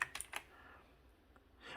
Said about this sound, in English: notice that this is a clickety clackety keyboard. Does make a lot of noise.